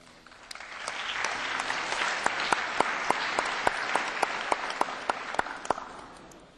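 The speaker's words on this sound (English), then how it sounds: "Vous applaudissez quand un de vos camarades intervient, vous applaudissez quand un rapporteur répond." Students in the European Parliament break into sustained applause, dense clapping rising quickly and holding steady with a few sharper individual claps standing out before it tapers off.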